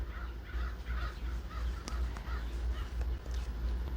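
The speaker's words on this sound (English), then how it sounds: "Can you hear the birds chirping outside?" Faint outdoor birds calling a few times in the distance on a hot day, short scattered calls over a low steady background rumble.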